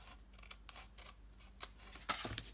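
Scissors snip and trim through material in a few quiet, scattered cuts, with a sharper cluster of clicks near the end.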